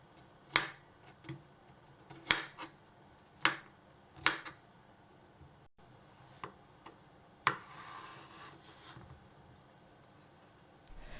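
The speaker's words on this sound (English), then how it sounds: "trim the eggplants and cut them in half lengthwise" A knife trims and halves Japanese eggplants on a cutting board, with five or six sharp, separate chops spaced about a second apart, then one more after a pause, close but quiet and without talk.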